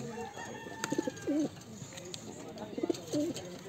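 Pigeons cooing nearby in soft repeated throaty calls, several short coos spaced across the moment, over quiet background noise.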